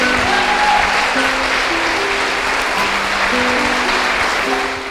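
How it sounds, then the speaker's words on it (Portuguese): A church congregation applauds steadily and loudly throughout, a dense wash of clapping under faint sustained organ or keyboard tones, with no break. "Vamos aplaudir ao Senhor."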